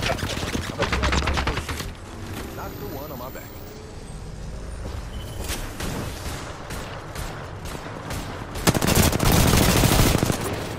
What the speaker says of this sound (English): Getting shot from the other side.